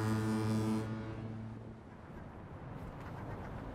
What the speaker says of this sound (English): Right here is one of our foghorns.